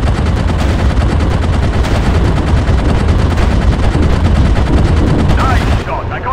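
Rapid aircraft machine-gun fire in the WW1 air-combat game Warplanes: WW1 Sky Aces, a loud, continuous rattling stream of shots that hammers on without pause and cuts off just before the end.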